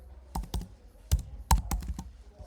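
Keys on a computer keyboard are tapped while a password is entered, a close series of sharp, uneven clicks in small bursts with short pauses between.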